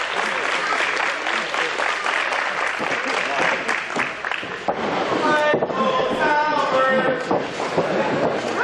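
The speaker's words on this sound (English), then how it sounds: "This crowd coming alive for the Carnies." Crowd at an independent wrestling show applauds and cheers after a near-fall in a title match, a loud and sustained roar with clapping that keeps going for several seconds, with commentary talk mixed in over it.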